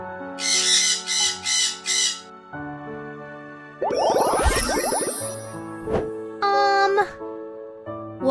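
Baby toy parrot sound: a burst of rapid, sharp electronic squawks, then a tonal chime and a shrill, chattering squawk, with further bright beeps and jingles, loud and close.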